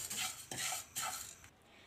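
A spoon stirs fenugreek seeds and spices dry-roasting in a pan for mango pickle, three soft scraping strokes with faint crackle, close and quiet.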